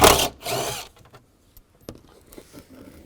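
A 7mm socket ratchet backs out a screw on the ignition lock housing of a 2002-2009 Chevrolet Trailblazer, opening with a loud burst of ratcheting, then sparse, quieter clicks and taps close by.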